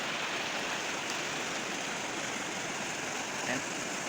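Strong river current too forceful for motorbikes to cross, heard as a steady, loud broadband rush of water with no pauses, close by and continuous throughout.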